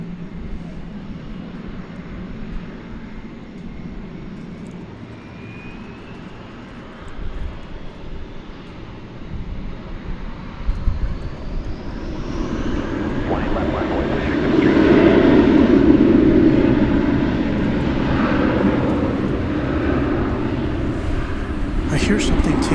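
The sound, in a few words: airplane taking off at DFW Airport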